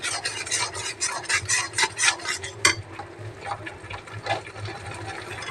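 Potatoes frying in oil with chilli powder and salt are stirred in a pan, giving close, rhythmic scraping and sizzling strokes for several seconds with no talk.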